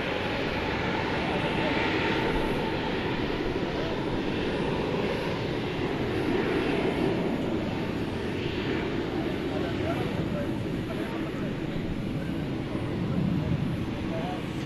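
A Spirit Airlines plane landing on runway 18 right at DFW at night produces a broad, steady engine roar that holds loud and constant, with a radio voice and talk underneath.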